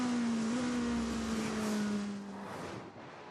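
Race cars in a Porsche and Ferrari endurance race at São Paulo roar past, one engine note sliding downward as it goes by, loud and close, then fading into a more distant track roar.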